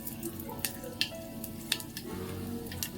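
Mustard seeds drop into heating oil for a quick pickle-style relish, producing a soft sizzle with scattered sharp pops and crackles, fairly quiet in a home kitchen.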